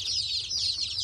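Many baby chicks peep and cluck together in a steady, high-pitched chorus, close and continuous throughout the brief clip.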